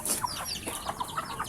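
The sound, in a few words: chickens clucking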